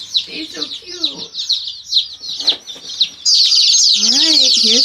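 Baby chicks in a warm brooder box cheep in a dense, continuous chorus of high peeps, nearby and steady, rising louder toward the end while people talk softly at the start.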